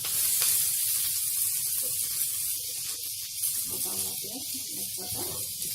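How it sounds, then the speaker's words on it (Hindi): Cumin, curry leaves, green chili and onion greens frying in hot oil for Odisha onion pitha, a steady sizzle and hiss running throughout with small crackles and pops, close and fairly loud. "और इसको हम फ्राई कर लेंगे।"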